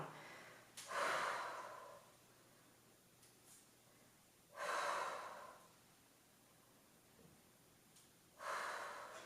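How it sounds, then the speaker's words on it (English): Three heavy, audible breaths during an upper body workout, each a forceful exhale arriving at a steady interval of about every three and a half seconds, close and clear against a quiet room. "Exhale on the way up, inhale on the way down."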